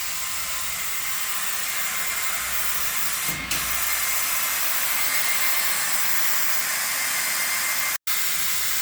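A plywood laser cutting machine with autofocus runs steadily, a continuous airy hiss and hum at even loudness throughout, with a brief soft swell near the middle and a momentary dropout near the end.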